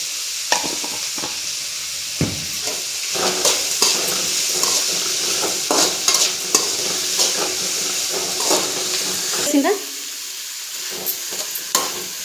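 Salted egg noodles stir-fried in a pan, a continuous sizzle broken by frequent scraping and clinking strokes of a utensil tossing them, close and fairly loud.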